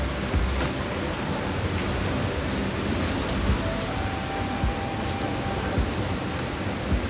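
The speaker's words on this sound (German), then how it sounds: "Regenwetter." Steady rain falls outdoors, a continuous broadband patter that stays fairly loud and even throughout, with a few brief louder drops or knocks and no talking.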